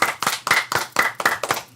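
During a live stream, a few people clap their hands close by, about eight quick claps in an even rhythm.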